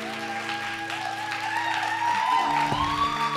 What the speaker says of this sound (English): Clap it up, y'all. Clap it up.